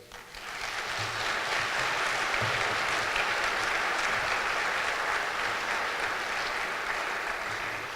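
An audience at a mayor and council economic development breakfast breaks into applause after a speech, a dense, steady wash of clapping that swells in and holds for several seconds.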